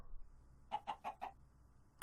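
Chickens in the Minecraft modpack Sky Factory 3 give a quick run of four soft clucks, then a single cluck after a short pause. The sound is quiet and stands alone with no talking.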